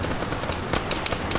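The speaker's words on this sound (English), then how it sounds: "there's a lot of guys shooting at me over here" Dense gunfire from many shooters in the military game Arma 3, sharp overlapping shots and bursts crackling continuously across a short stretch with no pause, loud and close in the mix.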